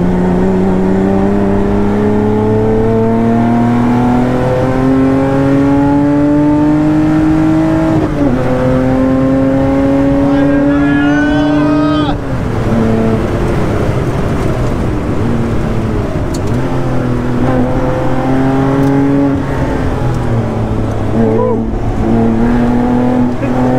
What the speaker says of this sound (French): Oh, la pick-up, elle roule aussi.